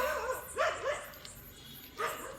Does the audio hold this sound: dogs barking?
yes